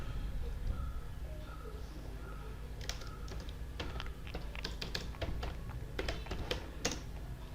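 Java code for an employee payroll query is typed on a computer keyboard, a quiet run of close, crisp key taps that starts sparse and grows into a quick, irregular patter.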